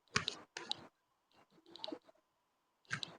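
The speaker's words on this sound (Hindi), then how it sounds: "कार्ड्स को अच्छे से शफल कर लें।" Tarot cards are shuffled in several short, quiet bursts of papery riffling and clicking, separated by brief pauses in an otherwise silent room.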